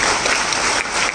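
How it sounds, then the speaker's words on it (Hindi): An audience at a Guru Purnima religious discourse in Indore claps steadily together, a dense, even burst of applause filling the whole moment without voices over it. "हिम्मत देने की वाली ताली बजाओ"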